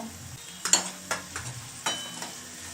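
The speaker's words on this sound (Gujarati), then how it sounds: "આ બધું આપણે હવે આમાં હલાવી અને થોડું સાંતળી લેવાનું" Spices stirred into softened onions in a pan while making chutney-flavoured samosa filling: a soft sizzle underneath, with several distinct scraping stirs of a spoon against the pan, close and moderately quiet, no talking.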